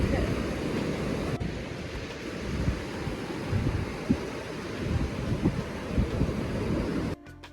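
Ocean waves roll onto a beach at sunrise in Garden City or Surfside, a continuous close wash of surf mixed with heavy wind rumble on the microphone, with soft breaking swells repeating throughout.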